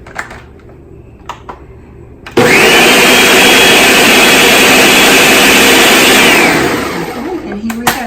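A kitchen blender whirs a chocolate frosty at a loud, steady roar for about four seconds before winding down, after a few quiet clicks and handling sounds.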